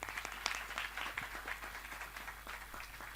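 Clapping from a religious discourse audience, quiet and somewhat distant, a continuous patter of many hands with a few sharper claps standing out.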